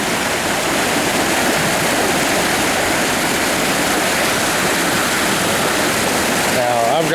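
Flood water rushes across a road and drains into a 3-foot pipe, making a loud, constant roar of churning water that stays close and unbroken until a brief shift at the very end.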